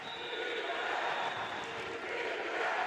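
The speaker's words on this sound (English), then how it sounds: "you can hear the crowd just chanting defense" Football crowd at a St. Joe Goats vs Eau Claire Axemen game chanting "defense" ahead of a third down, a steady, dense roar of many voices held at even loudness throughout.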